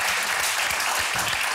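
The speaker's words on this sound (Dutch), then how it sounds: "Applaus voor jullie." A studio audience applauds after a song, a dense steady burst of clapping filling the whole moment, loud and close with no break.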